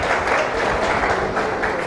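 A congregation at a Jesus Youth retreat in Mumbai claps for a participant who stood up, a dense, close, continuous burst of applause with no pauses.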